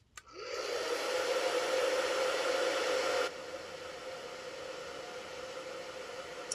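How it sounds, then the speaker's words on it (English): A heat gun or dryer blows over stamped craft foam, switching on with a click and ramping up into a loud steady whoosh and whine, then dropping abruptly to a quieter lower setting that keeps running. "I'm going to give it another quick blow dry."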